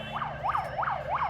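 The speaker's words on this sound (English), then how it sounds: "Sirens, right on cue." An emergency vehicle siren wails outside, sweeping up and down in a steady repeating cycle about four times, loud and continuous with no talking.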